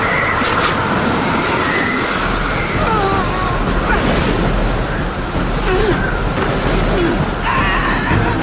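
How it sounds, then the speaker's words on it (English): Strong wind roars loudly and continuously, a dense rushing wash with gusting swells and faint whistling, in an animated storm scene. "The wind!"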